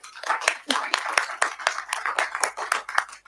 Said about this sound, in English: A big round of applause at that ending statement